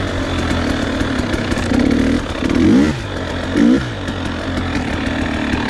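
A 2016 KTM 300 XC two-stroke dirt bike engine idling steadily, then blipped twice in quick sharp revs that rise and drop, close and loud with no talk.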